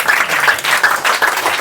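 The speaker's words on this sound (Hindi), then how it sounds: "जोरदार ताली बजाओ" Loud, close applause from a group of schoolchildren honouring prize-winning students after a monthly exam, a dense, steady burst of clapping with no speech.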